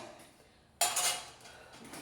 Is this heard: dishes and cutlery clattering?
yes